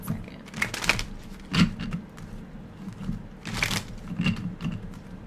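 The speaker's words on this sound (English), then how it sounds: "I'm going to shuffle this up pretty good" Tarot cards being shuffled by hand in a few separate bursts of papery riffling and flicking, close and crisp, with softer handling noises between the bursts.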